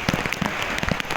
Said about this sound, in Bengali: আমাদের অবস্থা দেখেছেন, ধমধমিয়ে বৃষ্টি।